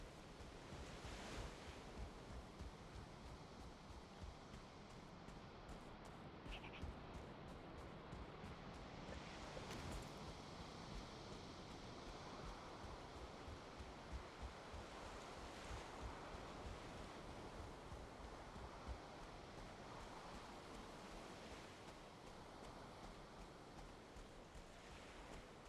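A character in Valheim plunges into open water, followed by a steady rush of surf and wind-blown sea ambience lasting the whole stretch, with a few louder swells, no voices.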